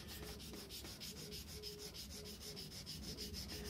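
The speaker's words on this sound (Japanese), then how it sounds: "こういう丸い刃っていうのはもうね、刃が丸いんで、こういうふうに、こういうふうにこう" Round-bladed leather-craft knife being sharpened on a wet grinding stone machine, a quiet, steady rhythmic scraping with evenly spaced strokes as the blade is rotated against the wheel.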